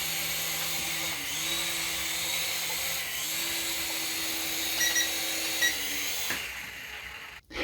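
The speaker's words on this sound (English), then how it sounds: "Make sure you check out this indoor remote control helicopter." A small Syma S107H-E indoor remote-control helicopter flies nearby with a steady high-pitched rotor whine and motor hum whose pitch shifts as it maneuvers, ending abruptly.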